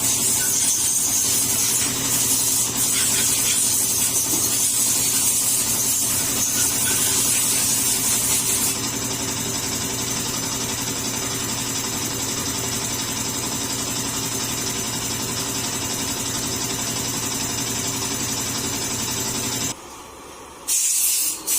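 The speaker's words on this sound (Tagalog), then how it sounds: "Medyo maingay yung compressor natin." A steady, loud hiss of compressed air runs over a low mechanical drone, with a brighter burst of spray early on before settling.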